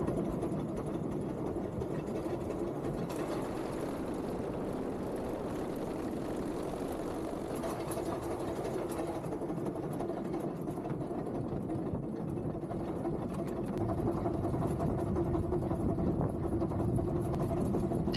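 Riding on board a Fairbourne Railway train through a tunnel, a steady enclosed rumble of wheels and running gear fills the whole stretch, even and moderately loud with a faint hum on top.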